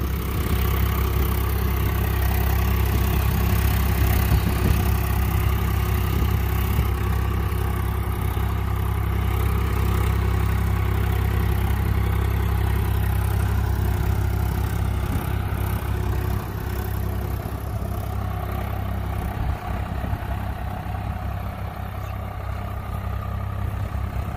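A diesel tractor engine runs in two-wheel drive with a steady, loud, low idling rumble and faint clatter that holds evenly throughout, no voices over it.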